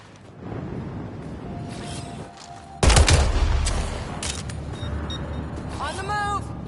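Video game gunfire erupts in loud bursts of shots and explosions over a steady battle din, with a voice talking and radio-like chirps toward the end.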